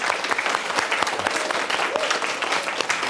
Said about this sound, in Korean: 박수 한번 하면 되지 않을까요?